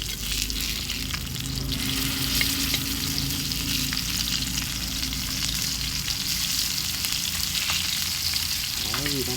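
Fish fries in a hot pan for a South Indian fish curry, a steady loud sizzle and crackle running throughout with occasional stirring or turning sounds and no talking.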